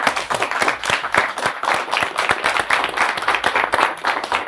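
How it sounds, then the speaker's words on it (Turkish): A studio audience on a Turkish football talk show breaks into loud, steady applause, dense rapid clapping continuing throughout without speech over it. "Evet, kocaman bir alkış."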